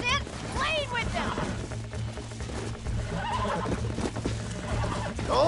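A horse in Red Dead Redemption 2 gives several loud whinnies and snorts over clip-clopping hooves, close and lively, with game voices mixed in.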